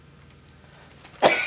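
A single sharp, loud cough bursts out near the end after a quiet stretch, from a person who choked on something going down the wrong pipe at a roller coaster convention.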